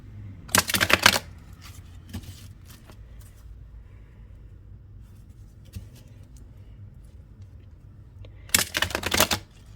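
Two brisk riffle bursts as a deck of tarot-style oracle cards is shuffled, one near the start and one near the end, with faint handling rustles between them in a quiet room.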